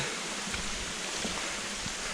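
Steady rushing water fills the clip, a constant broad wash like a stream tumbling over small falls, close and unbroken.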